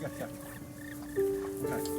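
Birds in the game That Dragon, Cancer cluck and coo softly in short, close calls, with a few sustained tonal notes against a quiet background.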